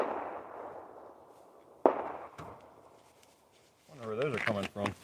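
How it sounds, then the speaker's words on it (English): A sharp distant crack rings out, followed by another fainter pop, then a person talks briefly near the end. "Gunshots."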